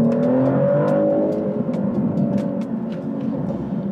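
A Maserati GranCabrio Trofeo with its 3.0-litre V6 twin-turbo Nettuno engine drives along, a steady close engine drone and road rumble holding throughout with faint clicks over the top and no talking.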